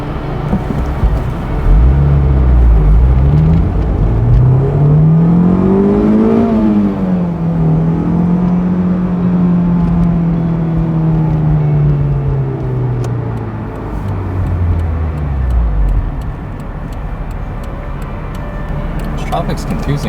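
A Honda S2000 sports car driving on a road late at night, its engine loud and close as it revs up, holds, then falls away, over continuous road rumble and whirring.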